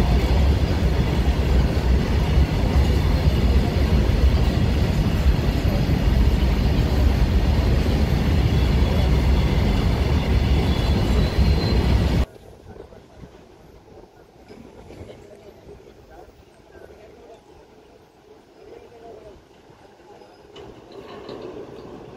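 A passing train roars loud and continuous with rumbling wheels, then cuts off abruptly, leaving quieter ambient noise.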